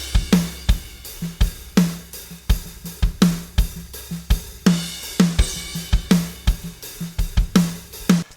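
A music mix treated with parallel compression plays as a steady drum-driven groove, with punchy, evenly spaced hits about every half second over sustained instruments, loud and dense with no voices.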